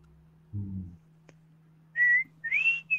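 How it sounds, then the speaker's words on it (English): A person whistles a short tune, two or three clear rising and falling phrases after a brief low vocal sound, close and fairly loud over a faint steady hum. "You're going to get a copyright strike for whistling."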